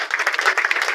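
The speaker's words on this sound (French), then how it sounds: "De vous lever, de l'applaudir" Applause from a crowd at a political rally in Grand-Bassam, Côte d'Ivoire, a brief dense burst of clapping, close and fairly loud.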